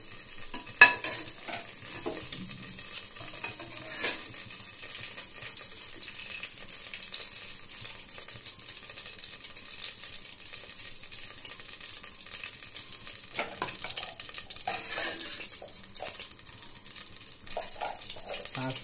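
Oil frying in a pan for a Telugu dish, a steady soft hiss of sizzling throughout with a few brief clinks and faint stirring sounds, fairly quiet and with no talking.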